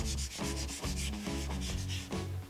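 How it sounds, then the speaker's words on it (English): Scrubbing pad with Barkeeper's Friend rubbed in circles over a stainless steel surface, a close, steady rhythmic abrasive swishing with repeated strokes and no talking. "I have Barkeeper's Friend on my scrubby pad, and all I'm going to do is just start rubbing in circles."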